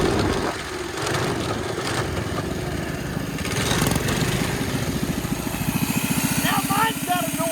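A small mini bike engine runs nearby, its rapid steady putter growing slightly rougher and louder toward the end, with people talking over it.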